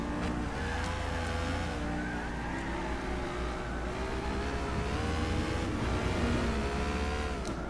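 Cizeta V16 T supercar racing in Gran Turismo 6, its engine droning steadily and loudly throughout with rising and falling pitch as it revs through gears, with no talking.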